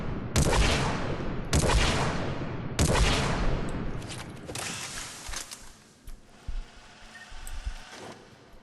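The Disciple shotgun fires in Mass Effect 3, three loud blasts about a second apart, each with a long fading tail, followed by quieter mechanical clicks and clatter.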